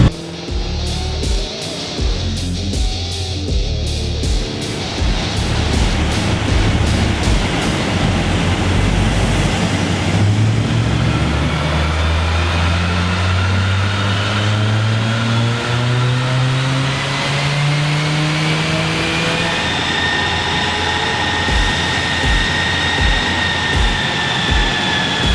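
A naturally aspirated car making about 520 horsepower runs hard on a dyno on a hot day, its loud, close engine droning steadily and climbing in pitch through sweeping revs, with no talking.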